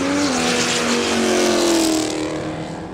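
A Ford Cortina launches at a street drag race, its engine roaring loud and close, climbing in pitch as it pulls away and then easing off over three seconds, with no talking.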